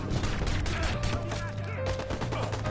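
Pistol gunfire in the video game Watch Dogs, a dense run of sharp repeated shots over a loud game soundscape with engine drone and a sustained tone, close and continuous.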